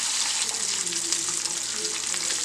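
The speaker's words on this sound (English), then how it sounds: "our chicken is finished frying" Pieces of southern-style fried chicken sizzle in a pan of hot oil, a close, steady crackling hiss with fine popping and a low background hum, no voices.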